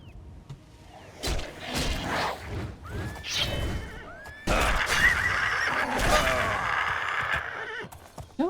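Horse in the video game Oblivion neighing and whinnying several times amid clip-clopping hooves, thuds and crashes of combat, fairly close and loud.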